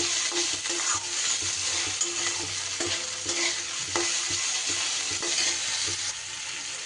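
Salted long beans and potatoes being stirred in a frying pan, a steady close sizzle with scraping strokes of the spatula throughout, no voices.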